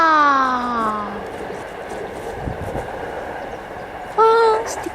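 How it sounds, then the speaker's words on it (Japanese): A Hibiya Line train passes a level crossing in Japan. A horn-like tonal blast opens, followed by the rushing rumble of cars going by, and another short tone near the end, with voices in the background. "日比谷線の電車でした。"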